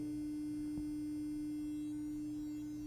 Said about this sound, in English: Here's a sine wave. It's a 4-bit sine wave.